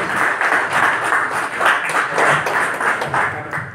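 Loud, sustained applause from a conference audience greeting a speaker, dense and even clapping that swells and holds without a break, no talking over it.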